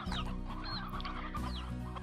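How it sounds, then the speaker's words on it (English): Chickens clucking on a ranch in the Slime Rancher video game, steady overlapping clucks from several hens and roosters running close and continuous, with no talking. "There's a lot of chickens out here suddenly."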